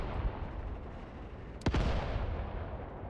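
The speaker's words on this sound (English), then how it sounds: "Mortars are impacting here now." A single sharp mortar impact in the World War II game Mius Front cracks nearby over a constant rumbling battlefield background, then fades into a low tail.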